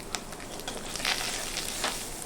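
Spices with salt and turmeric powder fry over low flame in a pan alongside red chillies, a soft continuous sizzle broken by scraping stirs and small crackles, with no voices.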